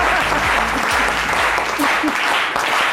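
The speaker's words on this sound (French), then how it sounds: "on l'applaudit très fort" A television studio audience on a midday talk show claps loudly to welcome a guest, a brief, close, full burst of applause with voices faintly mixed in underneath.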